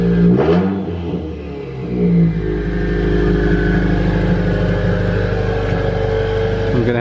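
A JDM car fires up from a cold start at night, catching with a sharp burst and revs, then settling into a loud, steady, high idle that drones on close by.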